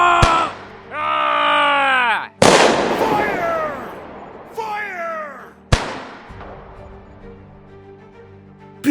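Several sharp gunshot bangs crack out one after another, loud and close, each ringing into a fading tail, mixed with wailing cries in a Bigfoot horror tale.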